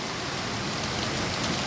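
Heavy downpour in Sylhet, a dense, loud, continuous hiss of rain pounding surfaces, steady and close, with no voices.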